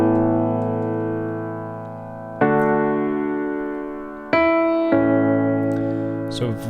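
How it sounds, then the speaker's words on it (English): Simple electric piano line played on a Yamaha Motif XS6-style keyboard, sustained chords with new notes struck at intervals, clear and close with no voices. "This piano is coming off of an electric piano,"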